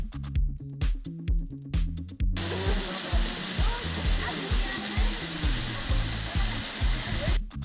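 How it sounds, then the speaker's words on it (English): Waterfall Fuente de Vida in Puebla, Mexico, pours as a steady, loud broadband rush that fills most of the clip, with heavy low rumbling thumps near the start and end. "En este momento nos encontramos en la cascada Fuente de Vida."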